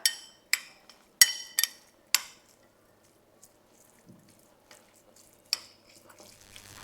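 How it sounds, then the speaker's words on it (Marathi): Beetroot salad (koshimbir) is mixed with yogurt and sugar in a bowl: several sharp spoon clacks against the dish come close together at first, then quieter, softer stirring sounds follow, with no talking. "व्यवस्थित हे मिक्स करून घेऊया."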